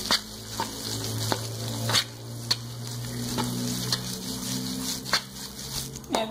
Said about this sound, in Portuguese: Dá uma mexida aqui com a colher até.